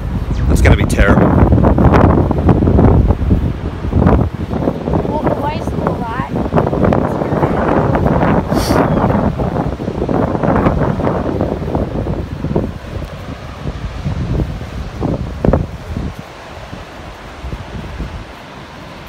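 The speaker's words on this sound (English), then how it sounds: "Oh, there's that wind again." Strong outdoor wind gusting and buffeting the microphone near a bench, a loud roaring rush that lasts throughout and eases toward the end, with people talking under it.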